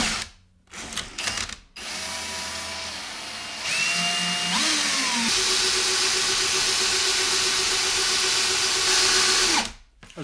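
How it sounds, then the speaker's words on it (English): A power drill whirs steadily for several seconds as it winds fishing line onto a spool, its pitch rising as it speeds up, then cuts off, with faint clicks and handling noise at the start. "All you need now is a drill."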